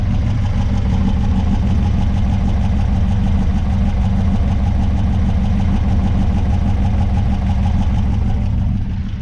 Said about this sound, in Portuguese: o motorzinho tá aqui funcionando ainda